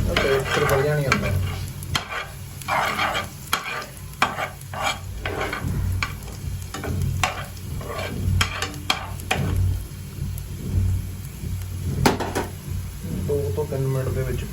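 Onions fry in a pan for vegetable oats, giving a steady close sizzle broken by repeated stirring scrapes and taps, with a voice speaking underneath.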